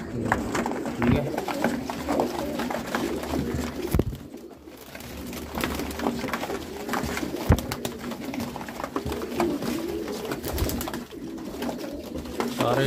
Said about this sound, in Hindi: सारे डब वाले कबूतर